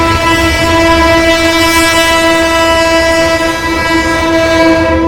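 Train horn blaring loud and sustained, a rich steady multi-tone blast held throughout, close by with rumbling rail noise underneath.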